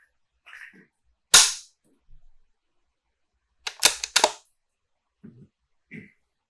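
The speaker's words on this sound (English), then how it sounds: "when I was shooting the moving targets, I'm slightly leading the target" Rifle shots fired at moving targets in the shooting game Virtual Shot: several sharp, loud cracks in irregular bursts, with a lone shot early and a quick cluster of three later, separated by quieter clicks.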